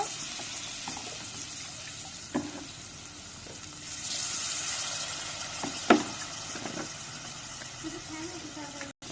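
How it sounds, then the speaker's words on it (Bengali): Water is poured into a hot pan of fried onions while cooking a hilsa fish curry, and a sudden hissing surge rises over the ongoing sizzle, with a few clinks and stirring sounds nearby. "এখন একটু পানি দিব।"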